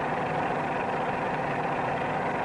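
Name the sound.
WWII training biplane engine in a climb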